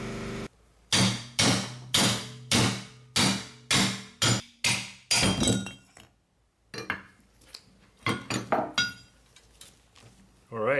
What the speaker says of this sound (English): I'm gonna get a hammer so we can tap the strut mount out